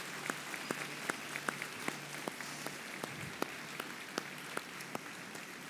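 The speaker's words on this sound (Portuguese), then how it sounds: "Dê uma salva de palmas a Jesus." A church congregation claps in sustained applause, distinct individual claps spiking rhythmically over a soft, distant roomy wash, fairly faint with no speech over it.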